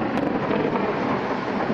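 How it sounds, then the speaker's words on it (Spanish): Thunder rumbling during an overnight electrical storm in Chanchamayo, a loud, dense and continuous roar with no voices. "Los rayos y truenos asustaron a todos los pobladores del lugar."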